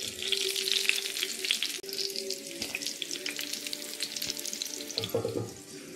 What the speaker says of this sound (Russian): Жарю котлетки у нас сегодня на обед.